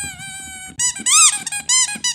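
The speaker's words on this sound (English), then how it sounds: "Maybe she just made like weird squeaky noises." A run of high, weird squeaky character vocalizations from a video game, several sharp chirping squeaks in quick succession after a steady tone, loud and close with no talk.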